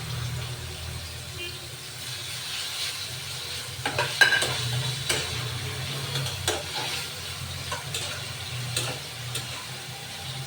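Tomatoes fry with onions in an oiled pan, a close steady sizzle broken by repeated scraping and tapping as a spoon stirs the mixture.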